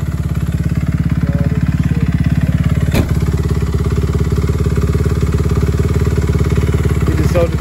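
An off-road vehicle wedged in mud at Tex Plex runs its engine loud and steady nearby, a rough throbbing idle with slight revving and an occasional sharp knock.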